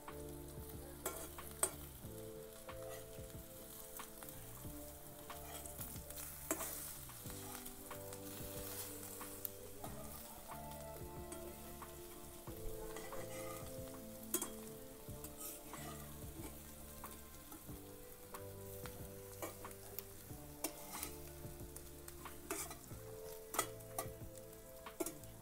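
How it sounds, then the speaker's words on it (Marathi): Food frying in a pan, turned over and over as it cooks, with steady sizzling and repeated stirring and scraping clatter running continuously throughout, close and moderately quiet, with no voices. "असंच आलटून पालटून ना मी आता हे चांगले शिजून घेते"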